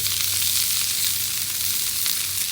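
Bell pepper and red onion sizzle steadily in plenty of oil on a flat grill top, a continuous dense crackle close up with no talking.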